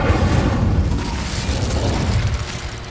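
The Incendio fire spell cast in Hogwarts Legacy bursts out as a loud, low rumbling whoosh of flame that holds steady and fades slowly, with no talk over it.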